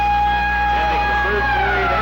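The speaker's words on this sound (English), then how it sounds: "There's the siren." End-of-period siren in an ice hockey arena at a 1984 youth mites game at AkSarBen Coliseum: a loud, sustained steady horn tone that holds for the whole moment over a faint crowd murmur.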